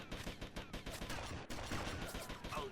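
Bursts of gunfire in the video game GTA Vice City, a dense run of rapid shots throughout, with one short pause midway before firing resumes.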